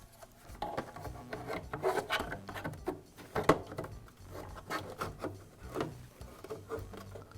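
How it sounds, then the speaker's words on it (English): Plastic dust shroud being fitted back onto the blower housing of a DeWALT planer during a fan repair: faint, close rubbing, scraping and small knocks from handling the parts, with no speech. "Now I can reinstall the dust shroud."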